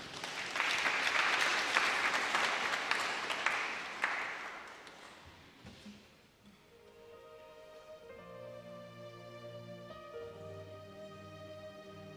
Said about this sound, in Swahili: Makofi mazuri kwa moderator